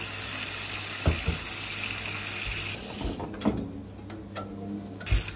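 Hot water runs steadily from a tap fed by a Vaillant 242 combination boiler, a continuous close hiss of flow broken by a few clicks and knocks near the end.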